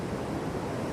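Sea waves building at high tide after Storm Darragh at Hendon Prom on the North East coast, a dense continuous roar of surf and wind, steady and fairly loud for a brief moment.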